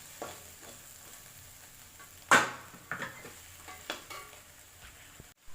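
Masala fries in a pan for chicken biryani while being stirred, a soft steady sizzle broken by a sharp clatter and several quieter scraping strokes of the spoon.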